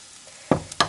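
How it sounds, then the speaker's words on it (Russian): Chopped onion frying in a pan of oil with flour stirred in for a homemade mushroom soup, giving two short bursts of sizzling after a quiet start. Nobody speaks. "И мукой еще тоже пожарим с мукой лук."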